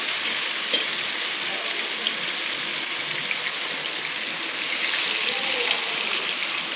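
Fish fry pieces sizzling in hot oil in a pan, giving a steady, dense hiss that carries on without a break at close range.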